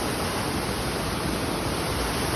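Madhavaram waterfall roars with a dense, steady rush of falling water, loud and close, filling the scene without a break.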